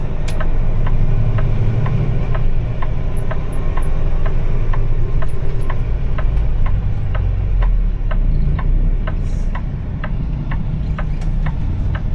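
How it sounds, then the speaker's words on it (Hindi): A truck on an Indian highway freight route comes toward the camera, heard as a steady, loud road and engine roar with continuous rumble throughout, over a regular ticking pulse, with no talk. "और सामने से ट्रक आ रहा है"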